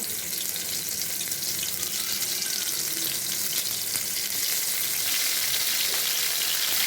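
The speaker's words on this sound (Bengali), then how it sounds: "পরিমাণ মতো সরিষার তেল নিয়ে নিয়েছি, বেগুনগুলো ভেজে নেব।" Eggplant slices fry in mustard oil with a loud, continuous, even sizzle, close up, steady throughout and free of any talk.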